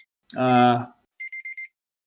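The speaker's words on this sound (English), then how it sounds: "Well, there's our timer." A timer alarm sounds four quick, evenly spaced electronic beeps right after a short spoken word.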